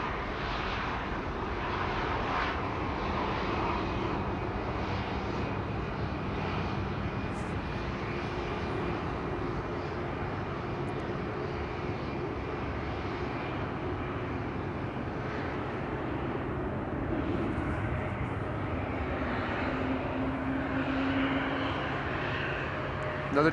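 Distant Embraer 195 E2 jet engines at Amsterdam Schiphol airport, a steady, fairly faint broadband roar that holds through the whole stretch with no talk over it.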